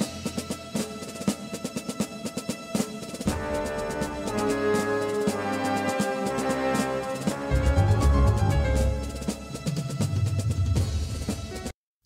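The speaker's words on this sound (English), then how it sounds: "I recorded this little piece of audio from a CD that I have some promotional music on" Promotional music taken from a CD plays back loud and full: busy percussion and melodic layers, with heavier bass entering partway through, continuous for about twelve seconds with no talking before it stops abruptly.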